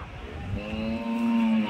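A Punganur cow moos once with a drawn-out, rising low call at a weekly cattle market. It is close and clear over a faint background bustle.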